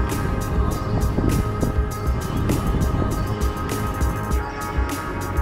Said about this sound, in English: If it wasn't for the wind though, the winds are quite brutal here.